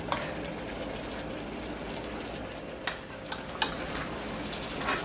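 Chicken pelau browning in a pot, a dense steady sizzle with a few light clinks and scrapes from a metal spoon stirring, close and without talk.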